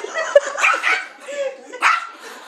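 A dog barking in short yips and whimpering cries, close and fairly loud, in a quick irregular series over about two seconds.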